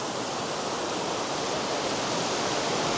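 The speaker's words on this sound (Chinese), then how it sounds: "洞内的瀑布，大家有见过没有？ 水还比较大的。" A large waterfall pours inside Tenglong Cave, a limestone cavern, producing a loud, steady, broadband rush of falling water that fills the whole stretch without pause or voices.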